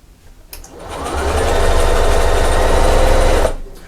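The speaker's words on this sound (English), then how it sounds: "put a little back stitch" A sewing machine runs a short back stitch on quilt fabric, one steady motorized whirr of about three seconds that starts and stops sharply, close and loud, with no talking.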